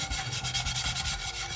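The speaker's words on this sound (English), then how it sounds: "chainmail scrubby, that chainmail" A chainmail scrubber works over a warm carbon steel pan at a sink with room-temperature water, making close, steady, rhythmic rasping strokes that repeat throughout without any talking.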